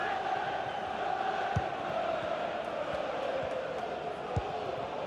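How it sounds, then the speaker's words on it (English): Stadium crowd noise from an EA FC football video game match, a steady far-off roar and murmur of many fans sustained throughout with a couple of faint thumps. "The crowd encouraging him to take it on"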